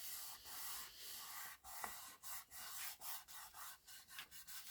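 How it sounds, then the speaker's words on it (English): Paper card rubbed firmly by hand to press down glue, a soft papery scuffing in repeated strokes, fairly quiet and close, with no talking. "I'm going to turn her over and give it a good rub down"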